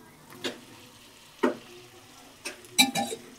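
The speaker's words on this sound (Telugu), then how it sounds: "ఇప్పుడు టమాటోస్ వేసుకోవాలి." Tomatoes go into a pan for chicken curry and give a few soft clattering stirs and brief sizzling bursts, spaced irregularly over a quiet, low hiss.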